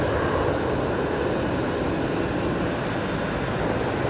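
An airliner lands on runway 19 left at Brisbane Airport at night: a loud, steady broadband jet roar holds unbroken throughout, with no talking.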